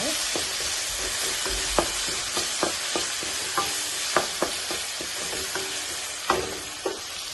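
A tomato and moong dal curry is stirred in a pan over a steady sizzle and hiss, with a spatula scraping and knocking the pan every second or so.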